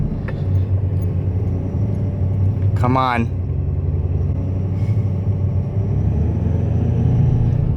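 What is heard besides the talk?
truck engine revving, turbo spooling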